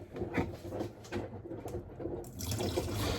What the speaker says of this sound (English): I just use bleach and I let it sit in the tub with a mix of water as well